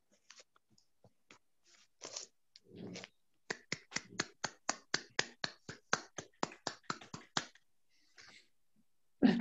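Claps ring out close and dry at a spiritual retreat, first a few scattered ones, then a steady run of about twenty evenly spaced strikes, with a few more sporadic ones at the end.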